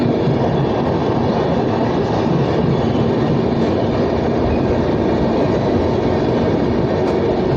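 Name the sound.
train running, Coochbehar to Kolkata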